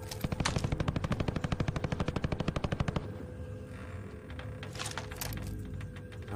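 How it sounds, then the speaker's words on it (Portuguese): Rapid automatic gunfire rattles in a long, even burst for about three seconds, then scattered distant shots over a low rumbling background, in the video game Call of Duty. "Estão dando tiro ali, ó."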